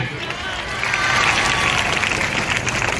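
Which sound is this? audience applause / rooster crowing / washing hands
audience applause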